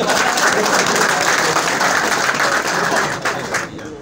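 Audience at a political gathering in India applauding loudly, a thick continuous patter of many hands that fades somewhat toward the end.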